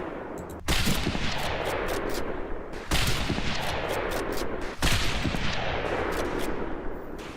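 Heavy gunfire rattles through the video game Medal of Honor Pacific Assault, dense continuous volleys of shots that surge in three waves, loud and close with crackling sharp reports layered over a constant battle din.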